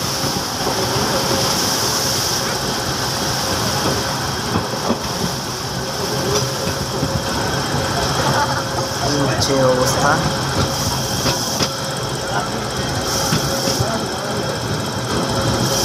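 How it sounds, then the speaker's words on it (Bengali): A packed DEMU passenger train near Narayanganj, Bangladesh, runs through a waterlogged section, giving a steady loud rumble of engine and wheels with faint rhythmic rail clatter, while a voice speaks briefly over it. "তো আমাদের ট্রেনটি এখন পানির মধ্যে চলছে।"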